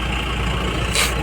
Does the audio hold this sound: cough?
no